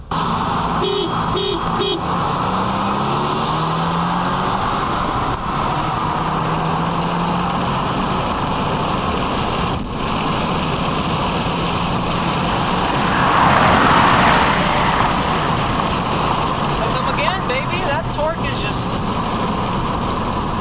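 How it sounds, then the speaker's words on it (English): A Subaru WRX accelerates hard in second gear from a 30 mph roll, its engine a loud, steady roar heard close from inside the cabin, with people talking over it throughout. "we're doing a 30 roll in second gear just to eliminate as much human error as possible"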